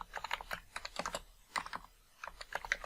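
A web address is typed on a computer keyboard as a quick, close run of light clicking keystrokes with a short pause partway through.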